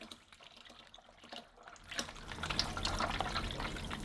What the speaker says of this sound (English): I'll take and put the reverse osmosis in there, maybe a liter or two